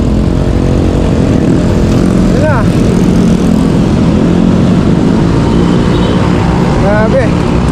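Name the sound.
many motorcycles riding in traffic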